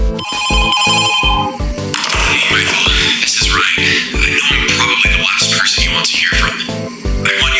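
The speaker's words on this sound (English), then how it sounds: "Beginning the game, Phone Guy gives us a call." A telephone rings in the video game FNAF 2 Reimagined, with loud repeated ring pulses in a steady rhythm that continue throughout, with no talk over them.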